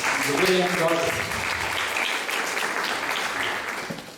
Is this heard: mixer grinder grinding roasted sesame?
no